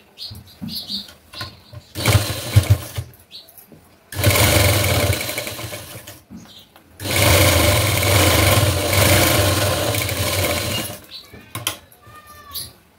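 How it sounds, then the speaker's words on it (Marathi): Sewing machine stitching a sleeve seam on a blouse, running in three close, steady bursts of whirring motor and needle clatter, the longest about four seconds, separated by brief pauses with small handling noises. "शेजारून एक टीप मारून घ्यायची."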